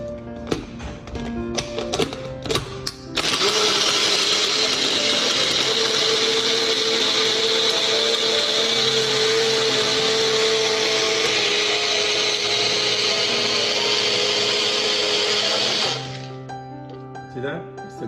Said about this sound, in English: Put it in a smoothie blender